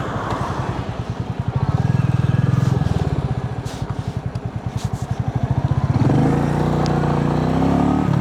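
A Royal Enfield Meteor 350 single-cylinder motorcycle thumps along while riding, its rhythmic low pulse rising and easing with the throttle, loud and close with wind noise.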